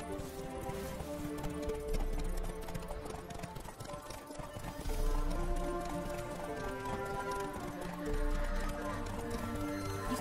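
Hooves of a galloping horse in The Witcher 3 video game, a steady clip-clop rhythm running the whole time beneath a dense orchestral music score.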